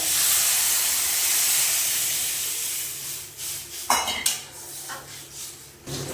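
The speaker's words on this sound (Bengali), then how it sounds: "নাড়িয়ে দিয়ে দেবো জল এবার দিয়ে দিচ্ছি জল" A loud hissing steam sound fades away, followed by a few clattering knocks and splashes of water going into a metal pot of lentils cooking with jute leaves.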